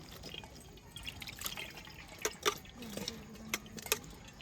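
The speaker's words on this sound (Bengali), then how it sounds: "পাস্তাগুলো কড়া থেকে নামিয়ে এক বাটি ঠান্ডা জল দিয়ে খুব ভালোভাবে ধুয়ে নিচ্ছি" Homemade pasta made from atta flour being rinsed in a bowl of cold water, with faint drips and small splashes near the end, quiet and intermittent.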